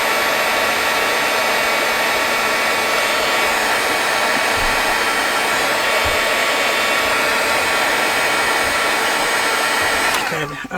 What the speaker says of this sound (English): I'm trying to heat the tape up to create like curling.